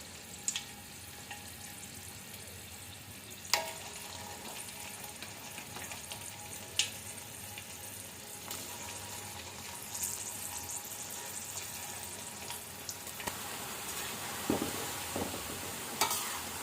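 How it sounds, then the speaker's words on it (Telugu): Jaggery gavvalu, small shell-shaped sweet dough pieces, deep frying in hot oil, giving a steady low sizzle with occasional sharp clicks and stirring taps, heard close and alone without talk. "ఆయిల్ వేడయ్యాక గవ్వలు వేసుకోవాలి."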